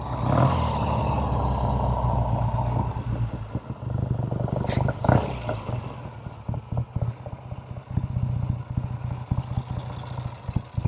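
A 1969 Triumph TR6R Tiger 650 motorcycle engine runs close by, a steady throbbing idle with blips of revving, loud and continuous throughout.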